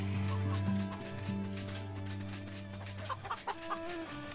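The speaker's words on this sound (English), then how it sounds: "A lot of chickens around here." Chickens clucking in the survival video game Enshrouded, a few low, close clucks and throaty calls over a steady drone, fading into softer scattered bird sounds.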